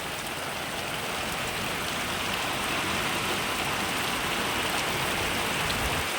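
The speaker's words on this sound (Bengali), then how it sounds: "দেখুন প্রচুর বৃষ্টি হচ্ছে আমাদের এখানে" Heavy rain pours down in a dense, unbroken hiss, drumming steadily on surfaces with no other sounds breaking through.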